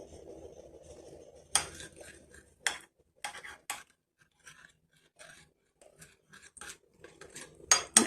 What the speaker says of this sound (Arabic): نقلبها برضو كويس